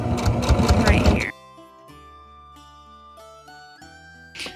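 A sewing machine runs a short straight stitch at length 2 through hook and loop tape with black thread. It gives about a second of loud, steady whirring, then stops abruptly and leaves only quiet sustained tones.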